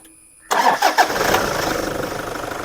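A Toyota Fortuner SUV's diesel engine cranks and catches, then settles into a steady, close rumbling idle with a rhythmic chug.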